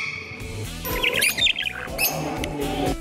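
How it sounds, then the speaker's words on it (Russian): Parrots in a tropical greenhouse, several harsh squawks and shrill calls bursting out close by over a busy background of echoing noise and murmur. "Даже попугаи ведут себя соответствующие. Ну а орут они точно как дома."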